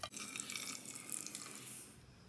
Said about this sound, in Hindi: आधा कप पानी डाल लेंगे।